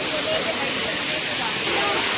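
A powerful waterfall rushes with a steady, loud broadband roar that fills the whole clip and holds near and constant, with no break or pause.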